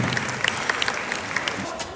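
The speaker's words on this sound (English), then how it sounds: "give yourself a big applause" A crowd at a Latin dance event in Australia breaks into brief applause, dense clapping with a few sharp louder claps standing out, fairly close and loud.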